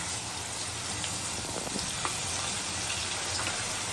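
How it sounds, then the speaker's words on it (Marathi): Garlic fries in oil with a green paste of ginger, garlic, chili and coriander for a surmai curry, a continuous close sizzle with faint crackles and no talking. "थोडासा हलकासा लसूण फ्राय झाल्यानंतर लगेच आपल्याला हिरवा वाटण टाकायचं आहे"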